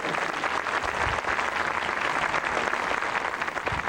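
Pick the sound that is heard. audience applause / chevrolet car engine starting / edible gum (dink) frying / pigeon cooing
audience applause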